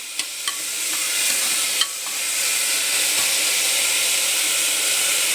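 Chopped onions fry in a pan for a masala mushroom dish, giving a steady, even sizzle throughout with a few light clicks of stirring near the start and no voices.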